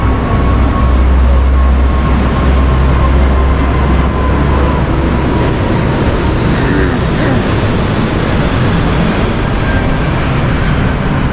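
Airplane passing low near an airport in Dubai, a loud continuous roar with deep rumble that stays heavy and steady from start to finish.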